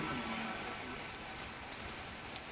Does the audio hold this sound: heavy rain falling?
yes